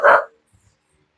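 A single short, sharp bark from a dog at an exotic bully kennel, close and loud, followed by near silence with a couple of faint soft thuds.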